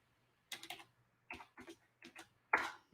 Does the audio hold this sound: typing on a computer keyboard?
yes